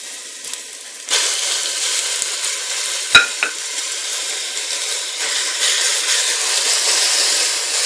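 Finely chopped onions fry in a pan for chicken kurma, giving a steady, close sizzle with a few stirring scrapes and one sharp utensil clink partway through.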